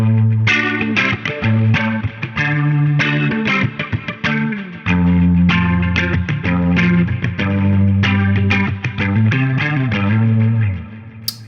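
Electric guitar through a Guitar Rig 6 patch styled after a famous rock guitarist, playing rhythmic delayed, chorus-tinged overdriven notes in a steady, continuous pattern, loud and up front with no voices.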